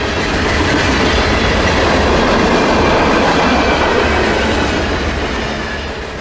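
Freight train of hoppers, boxcars and bulkhead flats rolling past close by, a loud steady rumble with rhythmic wheel clatter that eases slightly at the end.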